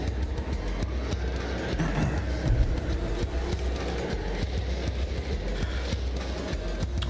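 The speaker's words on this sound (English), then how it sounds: "The train headed for Station Square will be departing soon." Steady rumbling train in the Sonic Adventure video game, a continuous rolling drone with faint clatter and tones, heard without speech.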